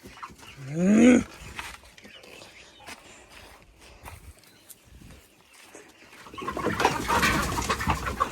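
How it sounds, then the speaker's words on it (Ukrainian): A loud, nasal duck call rings out close by near the start, then scattered rustling and a later burst of noisy flock clamor. "качки кричуть, бо на двір хочуть гуляти."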